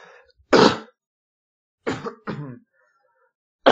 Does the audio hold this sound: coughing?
yes